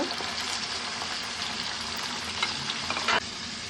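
Broiler chicken meat frying in a pan with ginger, cumin paste, spices, onion and garlic, a steady close sizzle with a few brief stirring clatters near the end.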